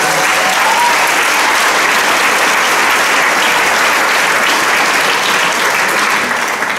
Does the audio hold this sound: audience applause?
yes